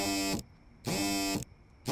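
An alarm buzzes from the character's computer in a video game, loud harsh buzzer blasts repeating in an even on-off rhythm, three bursts with short silent gaps.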